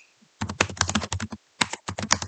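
Rapid typing on a computer keyboard while entering a question into a Google Forms table, close and clear, with bursts of keystrokes broken by a short pause.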